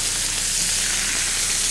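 Food frying in oil in a pan gives off a loud, even, continuous sizzle with no pauses, heard close and on its own.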